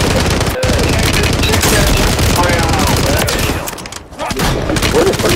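Rapid automatic gunfire in the video game Call of Duty Warzone, loud dense bursts of shots close by, briefly pausing then resuming, with faint voices underneath.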